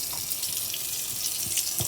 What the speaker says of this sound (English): We will rinse them in tap water